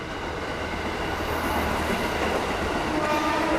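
A freight-only train with no passengers rolls past on a railway track in Jakarta, a steady, loud, continuous rumble with rail clatter filling the whole stretch, close by and without speech.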